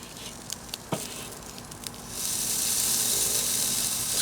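Burgers cook over indirect heat on a kettle grill, a few soft clicks and pops giving way to a steady, fairly loud hiss of sizzling and steam that fills the last half, with no talking.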